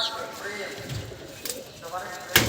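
Roller and Madrasi pigeons coo softly nearby during a flying display, their low murmuring calls mixed with sharp rustles and flutters, as a person talks over them.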